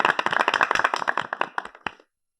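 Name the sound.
applause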